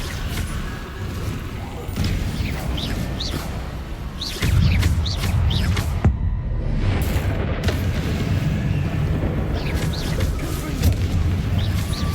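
Confringo fire spell from Hogwarts Legacy bursting in repeated booming explosions with low rumbling blasts, one sharp crack midway, then continued heavy rolling booms.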